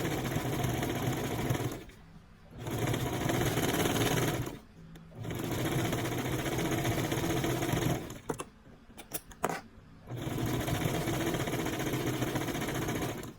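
Brother sewing machine stitching near the brim of a beanie, running in steady rapid bursts of several seconds each, separated by brief pauses and a few clicks, close and loud with no talking.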